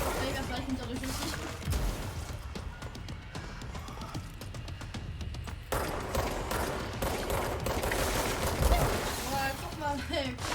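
Sustained gunfire and bursts in the video game Control, continuous and dense with crashes and effects, heard under ongoing game sound and speech.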